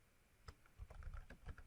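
Keys on a computer keyboard clatter in a quiet, irregular burst of soft taps, faint and close, with no voices over them.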